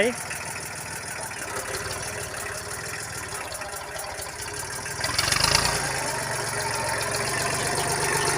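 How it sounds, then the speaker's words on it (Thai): A Kubota L2000 small tractor engine idles while reversing, a steady low chugging drone close by that grows slightly louder and rougher partway through, then holds at the higher level. "นี่ไม่ได้เร่งเครื่องนะครับ นี่เดินเบานะครับนี่"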